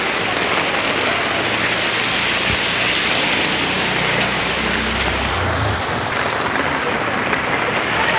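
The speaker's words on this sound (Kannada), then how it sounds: "ಫುಲ್ ಮಳೆ" Heavy rain lashes a street in Chickpete market at night, a loud continuous roar of water on the pavement with faint low traffic rumbles beneath.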